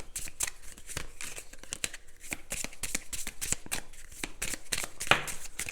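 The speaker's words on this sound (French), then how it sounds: "On va prendre quelques cartes." A small deck of illustrated Petit Lenormand cards is shuffled by hand, a close, continuous flutter of riffling and slapping card edges with brief pauses between bursts.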